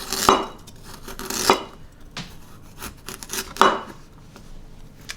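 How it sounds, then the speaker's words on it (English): A knife slices an ingredient on a chopping board for a simple Asian chicken dish, giving four sharp, close chopping strokes at uneven intervals with quiet pauses between them. "I'm just going to cut this down into slices."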